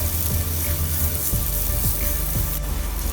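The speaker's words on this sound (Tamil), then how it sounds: "இதை நல்லா வதக்கணும், அந்த பச்சை வாசனை போகணும் அந்த தோலில் இருந்து" Ridge gourd skin sautés in a hot pan, a dense close sizzle with a few soft stirring knocks, no talking.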